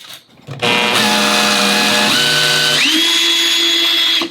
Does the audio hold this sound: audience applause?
no